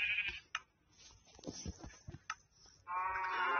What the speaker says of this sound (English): I'm feeding the sheep because of a necessary purpose.